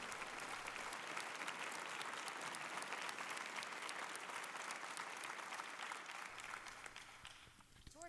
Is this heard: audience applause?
yes